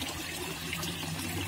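A second pump feeding a shallow garden fish pond without a bottom drain pours water steadily, a constant close splashing gush with no pauses.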